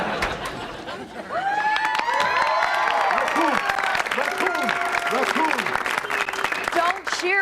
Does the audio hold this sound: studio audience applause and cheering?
yes